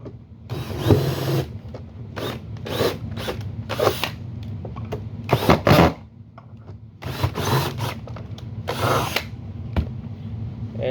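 A power screw gun drives screws back into the front plate of an Oreck vacuum in a series of short, loud whirring bursts with brief pauses, close up.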